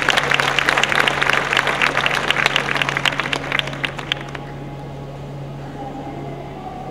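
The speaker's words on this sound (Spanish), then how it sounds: "un fuerte aplauso para ellos." A crowd at a travelers' meetup at the Fitur 2015 tourism fair applauds, steady clapping for about four seconds before it stops and leaves a low room hum.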